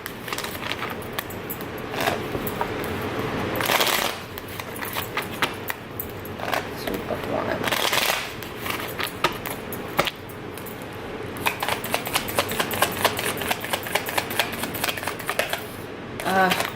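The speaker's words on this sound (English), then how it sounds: "Cards flip out and on the floor." Tarot cards are shuffled and riffled in repeated bursts of papery flutter and slaps, with a voice speaking intermittently under the card noise.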